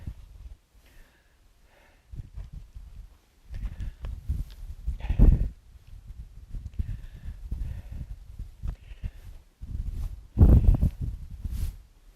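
A horse on a lead rope, saddled for the first time, clops and shuffles its hooves on the ground in uneven steps, close by, with occasional louder thumps and faint background noise.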